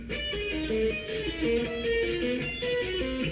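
A distorted electric guitar riff from a 1987 song, short repeated notes stepping upward by half steps, played alone with a continuous driving tone.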